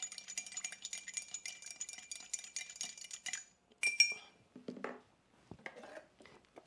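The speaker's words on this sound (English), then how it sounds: "Give this a little stir." A barspoon stirs a mezcal cocktail with sweet vermouth in a glass, producing a rapid run of close, bright clinks and rattles, followed by a few scattered, heavier knocks.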